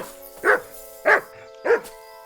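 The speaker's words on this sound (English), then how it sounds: "Good dog, Mutz." A dog in the medieval game Kingdom Come Deliverance II barks three times at an even pace, each bark short and clear over a steady, low background drone.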